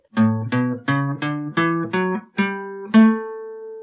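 A Mixolydian scale: eight keyboard notes climb steadily one after another, each clearly struck, ending on a longer sustained note, played alone.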